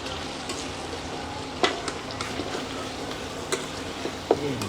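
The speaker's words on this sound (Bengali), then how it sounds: "এই মুরগির গোস্ত এখন একটু লাড়াচাড়া দিলেই" Chicken curry fries in a pan with a dense, crackling sizzle, while a few sharp scrapes and knocks mark the stirring; no one speaks.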